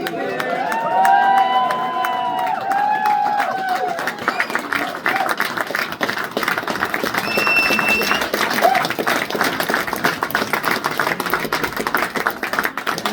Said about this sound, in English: giving the biggest applause that we can get in this room for Julie